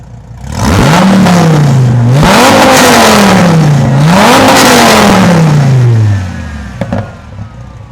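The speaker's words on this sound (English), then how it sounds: "let's go ahead and get some more exhaust revs from outside of the car" A 2008 Dodge Viper's V10 exhaust, heard from outside the car, revs loudly three times in quick succession, each rise in pitch sliding back down, then cuts off to near silence.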